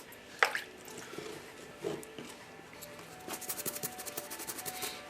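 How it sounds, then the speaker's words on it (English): Toothbrush bristles scrub wet mud off a Nike Mercurial Superfly Flyknit football boot, with a sharp tap near the start and then a close, quick run of rhythmic rubbing strokes toward the end. "using the toothbrush to annoy the mud out of there."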